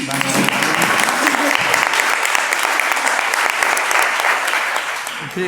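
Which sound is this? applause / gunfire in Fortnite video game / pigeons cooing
applause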